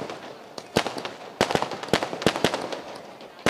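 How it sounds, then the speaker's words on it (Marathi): Fireworks burst at a Shree Tisai Chashak 2019 tournament event in Tisgaon, Kalyan: a string of sharp, loud cracks and pops at irregular intervals over a steady crackling background, with no voices. "चला या लवकर बघा फटाक्याची आतषबाजी"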